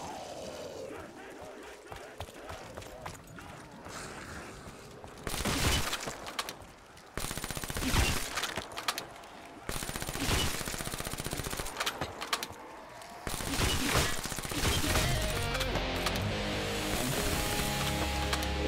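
Rapid automatic gunfire and bursts of shots from Black Ops 3 Zombies, loud and repeated in dense volleys with short pauses, alongside game effects and someone talking throughout.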